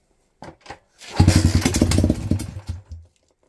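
A homemade Chinese two-wheeler engine sputters with a few pops, catches and runs loudly with a rapid rough putter for about two seconds, then dies abruptly into silence.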